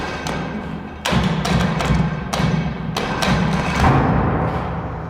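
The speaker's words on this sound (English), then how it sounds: "Listen to the door. This door is banging." A metal cell door in an old police station bangs repeatedly at an irregular pace, each thud ringing out over a constant background hiss.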